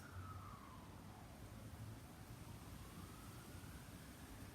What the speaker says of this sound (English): Can you hear those sirens?